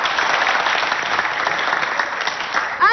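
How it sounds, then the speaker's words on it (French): A school audience at a high-school quiz-show competition in Abéché claps steadily and loudly for a few seconds, a dense wash of hand claps with no voices on top. "le public va applaudir pour vous accompagner"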